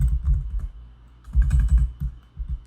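Text typed on a computer keyboard, close and clear, in two bursts of quick key clicks with a short pause between them and no talking.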